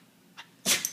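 A dog gives one sharp, close sneeze near the end, preceded by a fainter snort. There is no talking.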